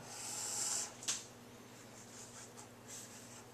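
Pen or pencil scratches across paper while a diagram is sketched by hand for a trigonometry lesson, soft strokes near the start then a few faint marks, quiet and close with no talk.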